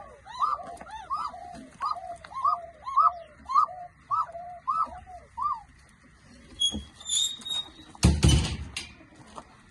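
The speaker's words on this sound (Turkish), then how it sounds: "Şey Bunlar Sivas kumruları." Sivas doves in a long-used backyard coop coo in a steady run of repeated calls, followed near the end by a rattling bang like a coop door.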